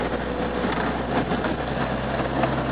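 MGB car engine running steadily through a downshift to third gear, a continuous low drone close-up with no clear pitch break, heard alone.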